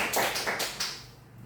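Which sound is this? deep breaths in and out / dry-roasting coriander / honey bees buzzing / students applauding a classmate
students applauding a classmate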